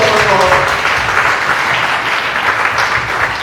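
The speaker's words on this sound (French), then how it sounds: "Applaudis le Seigneur Jésus-Christ." A church congregation applauds loudly and steadily for a few seconds, a dense wash of hand claps with a faint voice underneath at the start.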